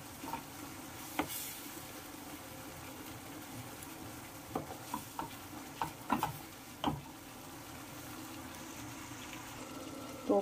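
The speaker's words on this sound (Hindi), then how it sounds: "तो अब इस स्टेज में मैं यहाँ पर ये देसी घी डाल दूंगी थोड़ा सा" Desi ghee going into a hot pan for matar paneer makhni: a soft, low sizzle with a few faint clinks and stirring taps, quiet and close, with no talking.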